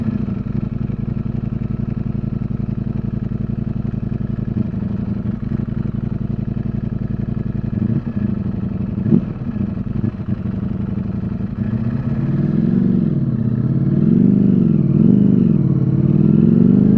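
A 2022 Ducati Streetfighter V4S rides through New York City traffic, its engine droning loud and close, with quick auto-blipper throttle blips during shifts and rising, swooping revs near the end.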